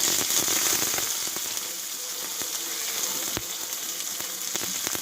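Chopped onion fries in hot oil with a continuous close sizzle, broken by sharp pops and spatters scattered throughout, and no one speaking.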